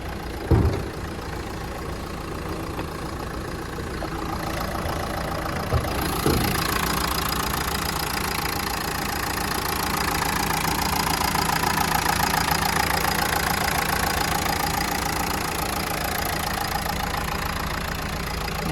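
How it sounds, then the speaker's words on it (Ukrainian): A Renault Megane 3 car engine idles steadily with a low, even rumble, one brief knock near the start, and no voices throughout. "Робота двигуна."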